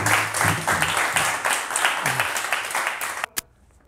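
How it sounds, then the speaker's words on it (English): Audience applause at a Wing Chun rooting demonstration, a dense burst of clapping that carries loudly for about three seconds, then cuts off abruptly, with one last sharp clap after it. "Give him a round of applause."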